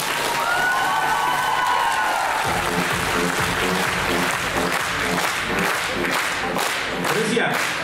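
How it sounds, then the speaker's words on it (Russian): Loud, sustained applause from a festival audience honouring mentors and teachers at Art Kvadrat 2023, dense clapping with some cheering that runs the whole stretch, with a voice or music faintly beneath it. "давайте сейчас подарим всю мощь наших аплодисментов всем наставникам и педагогам за их благодарный труд"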